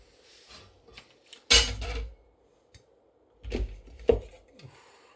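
Dishes, pots and cutlery being washed up at a sink, with a few separate clattering knocks and clinks, one louder burst early on and two more later, close and otherwise quiet between.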